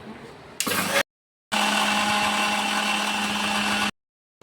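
An electric mixer grinder blends mint chutney in two whirring bursts, a short spin followed by a longer steady high-pitched run, loud and close, separated by silence.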